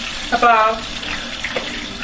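Plain tap water runs into a cooking pot for jollof rice, a steady splashing flow with a brief louder gurgle near the start, close and continuous throughout.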